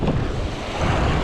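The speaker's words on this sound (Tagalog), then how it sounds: "Malakas ang hangin." Strong wind roars and buffets the microphone in a constant broadband rush during jig fishing, with a hint of surf or water mixed in beneath it.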